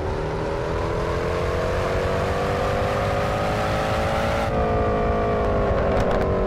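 A Mercedes W204 C63 AMG V8 revs in a racing game exterior sound mod, a steady loud engine note rising slowly in pitch, then a sudden lift and a lower, easing drone with small crackles at the end.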